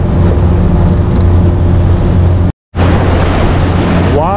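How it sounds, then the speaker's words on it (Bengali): Rough Atlantic Ocean waves and wind rush loudly and continuously around a fishing boat heading offshore off Florida, with a brief dropout partway through before the roar resumes. "এই যে সাগরের ঢেউ, উত্তাল ঢেউয়ের মাঝ দিয়ে আমি এগিয়ে যাচ্ছি উপর নিচে করে।"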